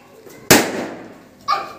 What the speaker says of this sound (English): we will piers the balloon with a pin